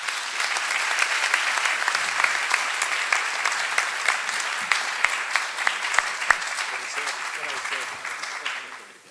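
Audience applause at a debate and book launch in Niterói, Brazil: dense, steady clapping from a full room that holds for several seconds, then thins and fades out at the end.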